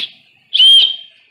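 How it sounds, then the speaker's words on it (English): A small whistle built into the strap of a bugout bag gives one loud, shrill blast of about half a second. A softer trailing whistle tone comes just before it. "you'll see this little thing here has a whistle"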